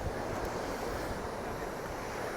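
Atlantic Ocean surf rolls in at the edge of Ericeira, Portugal, a loud, steady broadband wash of waves mixed with wind buffeting the microphone, with no voices.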